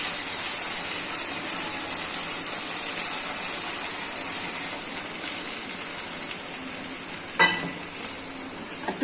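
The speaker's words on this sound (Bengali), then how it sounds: "আমি আর একটু জল দেবো।" Water poured into a pan of sizzling potato and pointed gourd curry, a continuous hissing, bubbling sizzle close by that stays steady throughout, with a brief clatter near the end.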